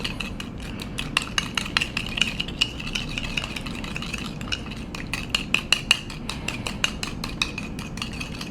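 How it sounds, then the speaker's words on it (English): A spoon clinks and scrapes briskly against a bowl, stirring sauce with cornstarch, a quick irregular rattle that continues steadily throughout. "Stir that up, get the lumps out of it."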